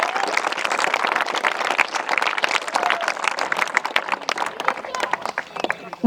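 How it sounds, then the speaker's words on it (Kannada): An audience claps loudly and continuously at an Operation Sindoor victory celebration held at a coaching academy, a dense, sustained burst of applause from many hands. "ಎಲ್ಲರೂ ಒಮ್ಮೆ ಜೋರಾಗಿ ಚಪ್ಪಾಳೆಗಳ ಮೂಲಕ ಅವರಿಗೆ"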